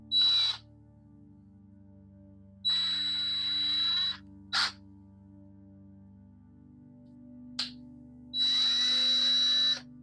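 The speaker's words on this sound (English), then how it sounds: "I need a bigger drill bit." A power drill fitted with a larger 5/16 bit bores holes for bolts, running in close, loud bursts of a few seconds each, separated by short clicks and pauses.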